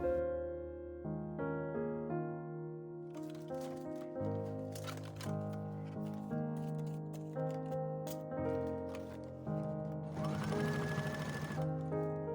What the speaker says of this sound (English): And sew from the inside for a clean look.